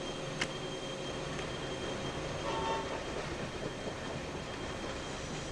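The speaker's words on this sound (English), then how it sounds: "we need to stop some trains" Trains rumble and clatter along the rails in the Locomotion video game, a steady mechanical drone with faint clicks and a brief squeal in the middle.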